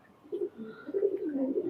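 Close, quiet cooing from Pakistani highflyer pigeons: a few short low throaty pulses followed by a longer rolling coo.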